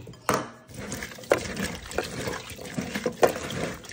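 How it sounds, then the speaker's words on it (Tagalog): Bitter gourd being washed with salt under running water in a kitchen, with splashing, trickling water and several sharp clunks of the vegetable or a bowl against the sink, close up and without talk. "Hugasan ko muna siya, guys, ng asin."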